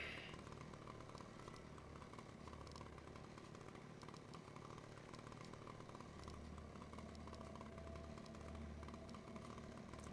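A chainsaw weapon in the Nightmare Reaper shooter game runs as a steady, buzzing engine drone throughout, faint and continuous with no talk over it.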